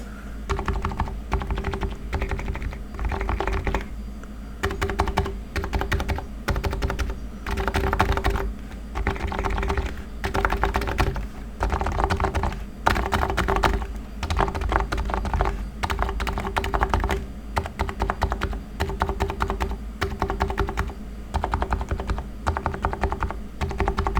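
Sliders of an electrostatic capacitive keyboard pressed over and over in quick irregular bursts, producing clacky tapping close to the mic, with no voices over it.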